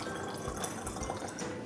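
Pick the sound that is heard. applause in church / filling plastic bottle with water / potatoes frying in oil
filling plastic bottle with water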